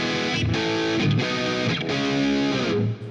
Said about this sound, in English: crunch sound with more gain